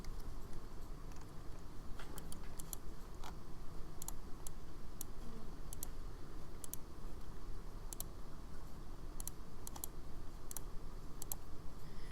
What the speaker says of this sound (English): And then click 4 on your keyboard.